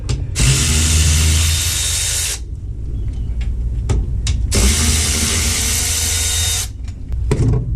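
A 3/8 ratchet working the mechanism of a broken trailer landing gear box, long loud bursts of rapid clicking, two extended runs separated by a quieter pause with scattered clicks, close up.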